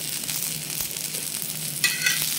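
Large chunks of tomato sizzle and crackle in a hot pan, a steady frying hiss with a few sharper pops as they are stirred.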